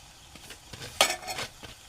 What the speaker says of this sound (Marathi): आता आपण याच्यामध्ये आळूची पानं टाकू चिरलेली. ही बघा, आणि भाजी चांगली रेटून घेऊ ढवळून